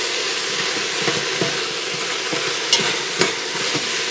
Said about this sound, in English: now I'm going to give this a stir